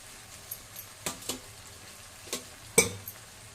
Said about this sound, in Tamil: மசாலா வந்து எண்ணெயில் அப்படியே வதங்கணும்.